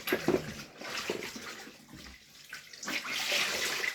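A carpet-cleaning cloth is rinsed in a bucket of water, giving uneven sloshing and splashing at close range that swells and eases over a few seconds, with no talking.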